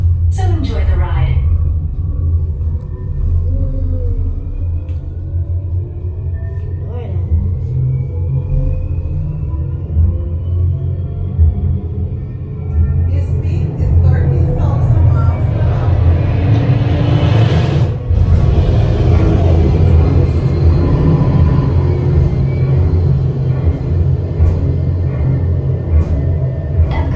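A low continuous rumble of the simulated elevator descent on the Epcot Space 220 ride, loud and steady throughout beneath a narrator's voice and a rising electronic tone.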